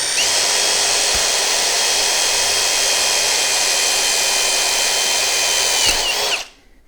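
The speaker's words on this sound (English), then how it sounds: "now we're gonna drill a hole there" A power drill boring a starter hole with a 7/64 bit during a Motogadget mo.switch install on a motorcycle, a loud steady high whine held for about six seconds before spinning down and stopping abruptly.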